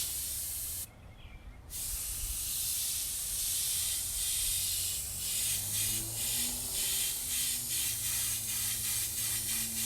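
An airbrush sprays paint onto a tiki head outdoors in a yard, giving a steady close hiss that drops out briefly near the start and then runs on continuously.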